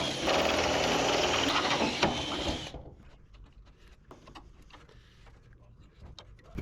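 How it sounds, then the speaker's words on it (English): A power drill whirs loudly for a couple of seconds, then cuts off, followed by quieter handling clicks and knocks. "I'll drill holes in it"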